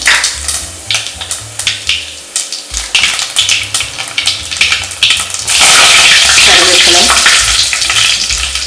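Mustard seeds, urad dal and cumin sizzle and crackle loudly in hot oil for a tempering while a spoon stirs and scrapes the pan, then a steady, intense frying hiss takes over.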